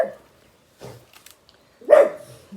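A dog gives a couple of barks, a softer one early and a louder, sharper bark near the end, in a quiet indoor room with no talk over it.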